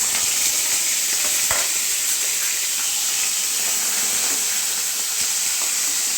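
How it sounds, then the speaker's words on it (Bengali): Bitter gourd pieces frying in mustard oil in a pan for a peas dal, a steady close sizzling hiss that holds throughout with faint occasional stirring clicks, no talk. "উচ্ছে আর সজনে ডাঁটাটা একটু হালকা করে ভেজে নিতে হবে, সেই জন্য উচ্ছেটা দিয়ে দিচ্ছি"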